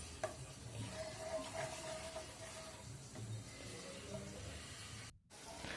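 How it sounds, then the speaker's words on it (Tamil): Jaggery syrup bubbles and sizzles in a pan, a faint, steady hissing simmer with soft popping running evenly throughout, alone without talking. "வெல்லம் வந்து நல்லா கொதிக்க ஆரம்பிச்சிருச்சு."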